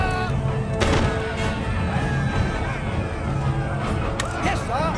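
Infantry musket volleys in the video game Empire Total War, with booming shots under continuous battle noise, shouted commands and crowd babble throughout.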